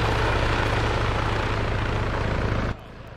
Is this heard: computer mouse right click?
no